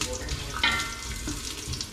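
Ginger sautéing in a pan, a brief soft sizzle with a faint splashy, watery edge and one sharper hiss partway through.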